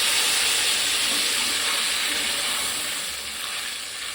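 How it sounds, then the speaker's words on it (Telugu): Tamarind juice poured into a sizzling fish curry base gives a loud, continuous broadband hiss and bubbling that fades a little toward the end, with no talking. "చింతపండు పులుసు యాడ్ చేసేసుకున్నాను."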